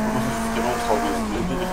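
Car drifting with tire squeal in the racing game Project Cars 2, a steady engine drone with a sustained squealing tone throughout, moderately loud.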